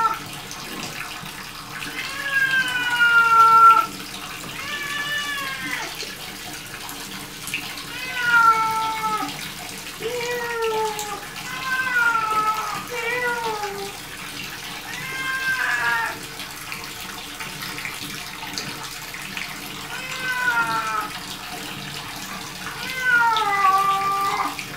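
A cat meows repeatedly, loud and plaintive in rising and falling cries, while being bathed in a tub, with soft water splashing underneath.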